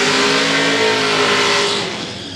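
Naturally aspirated big block classic Chevy hot rods roar loudly at a drag racing event in Gainesville, a close, sustained engine rev that eases off slightly at the end.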